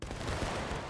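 A musket volley in War of Rights, a dense, rolling burst of many overlapping gunshots at moderate distance, filling the whole brief moment.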